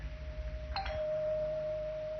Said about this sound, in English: The doorbell was already ringing, and Paul was answering it.